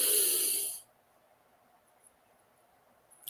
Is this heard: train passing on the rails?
no